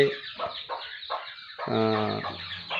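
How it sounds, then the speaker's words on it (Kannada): Country chickens cluck nearby in short repeated bursts, followed by a longer drawn-out hen call, with no talking. "ನೋಡಿ ಇಲ್ಲಿ ನಾಟಿ ಕೋಳಿ ಸಾಕಿದ್ದೀನಿ"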